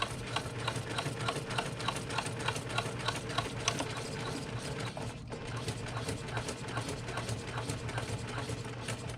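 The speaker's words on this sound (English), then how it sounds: "then we're going to stitch over it" A sewing machine stitches the seam of a tote bag in one steady run, its needle chattering rapidly and evenly at close range with a constant motor hum beneath, uninterrupted by talk.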